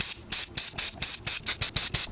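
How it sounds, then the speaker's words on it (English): Gloss cherry red spray paint hisses onto a surfboard logo in about nine short, even bursts. Each sweep is a crisp, close spray with brief gaps between. "Sweeping spray."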